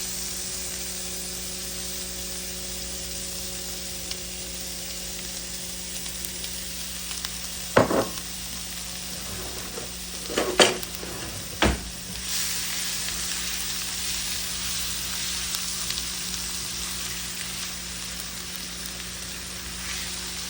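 Onions frying in a pan, a faint continuous sizzling hiss with a steady low hum throughout, broken by a few brief clatters and bumps near the middle.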